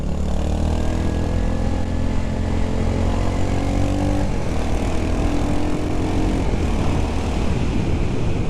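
A Royal Enfield Hunter 350 motorcycle engine drones loud and close, its pitch climbing and then dropping as the rider brakes and shifts down a gear, with heavy wind rush throughout.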